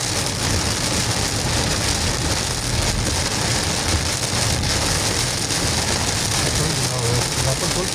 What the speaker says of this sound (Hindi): तेज बारिश है